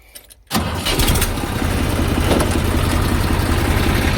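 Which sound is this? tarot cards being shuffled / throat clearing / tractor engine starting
tractor engine starting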